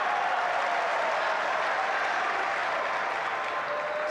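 A Wimbledon tennis crowd applauds between points, heard as a steady, distant wash of clapping filling the stadium at an even level throughout.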